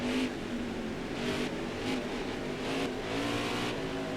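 Stock car engine in NASCAR Heat 5 on the Indianapolis road course, the throttle feathered: a fairly quiet, steady engine drone rising and falling in short repeated surges of revving as power is eased on and off.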